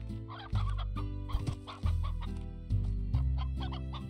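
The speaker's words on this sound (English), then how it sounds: "Chicken on the loose!" Chickens cluck in the video game Slime Rancher, with repeated short clucks over a looping low musical background, moderately close and fairly quiet.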